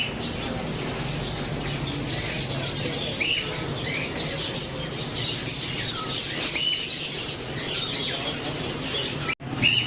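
Small birds chirp and tweet steadily in a pigeon and parrot shop, a busy chatter of calls over a constant background hum, with occasional wing flutters.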